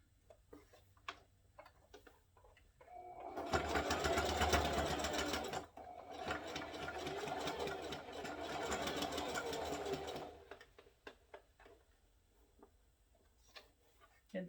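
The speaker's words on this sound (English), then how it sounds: "I'm about to sew it together." A sewing machine runs steadily while stitching together a handmade teddy bear, humming close and moderately loud in two continuous bursts with a brief pause between, and soft ticking and handling clicks before and after.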